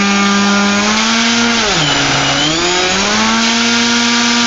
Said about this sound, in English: the tail motor shouldn't bog like this in actual operation